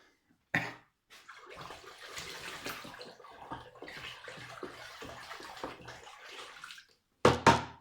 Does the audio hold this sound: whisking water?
yes